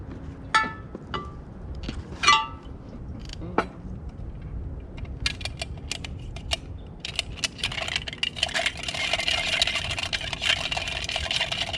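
Cocktail being stirred in a glass, several bright clinks early on followed by a rapid run of light, quick tinkling taps that swells into a steady rattling swirl toward the end.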